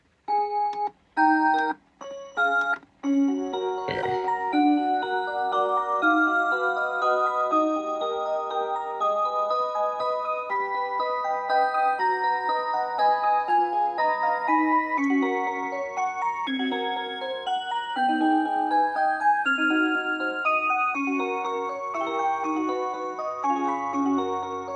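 A Hello Kitty musical clock plays a melody, a steady chiming music-box tune running throughout after a few brief clicks and taps at the start.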